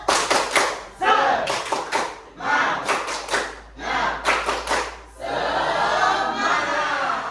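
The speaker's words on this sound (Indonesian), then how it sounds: "sekarang tepuk semangat. Tepuk semangat." A school class claps in a chanted rhythmic pattern while voices call along, then breaks into a sustained burst of loud, mixed clapping and cheering.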